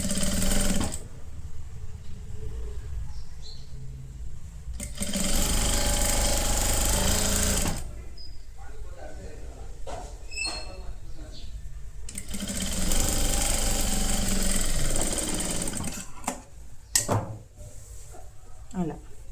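A sewing machine runs in bursts, stitching the folded half-inch hem along the edge of an A-line kurti sleeve, with whirring runs broken by pauses while someone talks between them.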